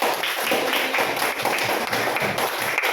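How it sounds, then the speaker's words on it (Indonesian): A classroom of students claps for a few seconds in brisk, uneven applause at close range, the many hands overlapping into a dense patter. "Ya, tepuk tangan"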